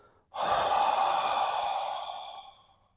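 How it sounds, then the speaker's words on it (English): One long, close breath with a steady, airy hiss during a slow neck and shoulder relaxation exercise, drawn in through the nose and released out through the mouth. It swells quickly and fades gently, alone in a quiet room. "So I'm breathing in through the nose, out through the mouth."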